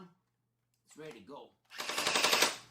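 Nerf gel blaster firing a rapid burst of gel balls, a dense rattling stream of shots close by after a short stretch of talk.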